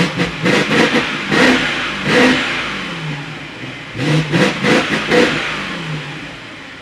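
A salvage BMW 750i with a mechanical fault runs close by, its engine revving in repeated bursts that rise and fall over a rough, uneven idle, loud with no talking.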